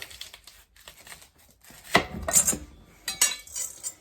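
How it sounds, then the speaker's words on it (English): A choko (chayote) being cut with a knife, a few short crisp slicing and chopping strokes with light clinks of utensils, close and fairly quiet, no voices. "We'll chop it up and have a good look at inside the Choko"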